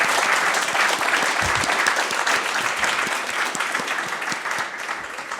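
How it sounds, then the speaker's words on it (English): Sustained audience applause fills a hall after a panel at an EU energy and supply chain security event: dense, even clapping from many hands, steady and fairly loud throughout, with no speech over it. "So let's give them all a round of applause"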